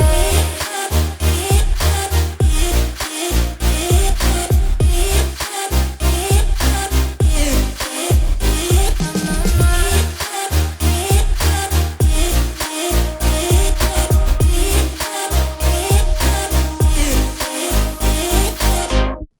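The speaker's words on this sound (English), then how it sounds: "So now our vocal chops are done and now we have to add effects on it." Dense future bass track built on chopped, pitched vocal snippets with heavy processing, punchy low end and rhythmic gaps, loud and continuous without any talking.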